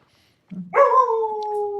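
A dog lets out a close, loud howl that rises from a low whine into a long sustained wavering tone, heard alone without talk.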